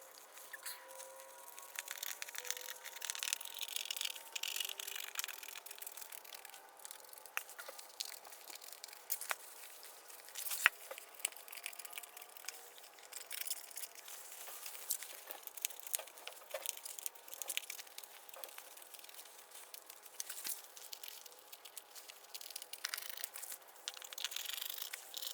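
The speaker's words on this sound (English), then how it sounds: "now I'm gonna go ahead and cut off the excess vinyl" Excess vinyl is cut and trimmed from a stapled seat upholstery cover, with a long run of faint, close crinkling, snipping and tearing ticks in an irregular pattern and no talking.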